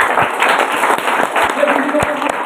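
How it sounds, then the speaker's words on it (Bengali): Audience applause at a business seminar on direct selling and network marketing, a dense burst of many hands clapping, loud and sustained, with voices mixed in. "খুব বড় করে একটা হাততালি হয়ে যায়।"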